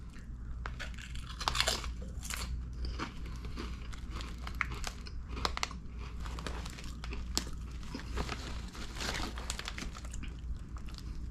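Someone chews ketchup-flavored Hostess Munchies chips close up, with repeated crisp crunches and crackles in irregular bursts over a low background hum.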